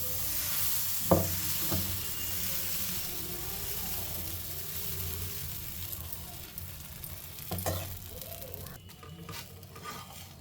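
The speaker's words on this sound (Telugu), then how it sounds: "ఒక చుక్క ఆయిల్ వేసుకొని ఫస్ట్ దోశ కాబట్టి కొంచెం ఆనియన్ రుద్దుతున్నా ముందు ప్లెయిన్ దోశ వేస్తున్నా" Plain dosa batter sizzles steadily on a hot oiled pan rubbed with onion, a soft continuous frying hiss with a couple of light scraping knocks, close and alone.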